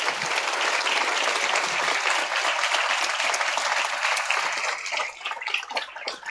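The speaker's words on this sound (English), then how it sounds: "giving them a round of applause in appreciation" A graduation ceremony audience at Vieux Fort Comprehensive gives steady, sustained applause that fills the hall, then thins into scattered claps near the end.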